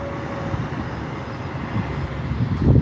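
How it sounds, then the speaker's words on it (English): A Beechcraft B200 turboprop taxis onto the runway, a steady droning engine hum that swells slightly near the end, with no talking. "getting on the runway, here's our Beechcraft B200 50"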